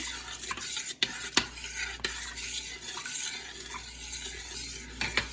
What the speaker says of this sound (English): you want to stir it in